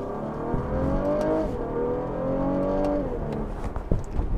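A 2016 Cadillac CT6 engine pulls hard under acceleration, its steady drone climbing in pitch, dropping back at quick upshifts, then rising again, heard loud and close with no voices.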